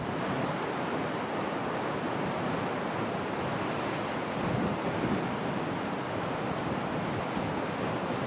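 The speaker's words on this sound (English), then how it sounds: "And the wind is starting to pick up. You can really see the waves are starting to build too." Steady broadband roar of wind and breaking waves at sea aboard a sailboat offshore, loud and continuous with no voices.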